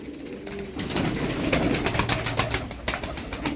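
Perçemli çakmaklı fancy pigeons for sale coo in a loose, continuous murmur, the low rolling calls fairly close and steady throughout with no talk over them.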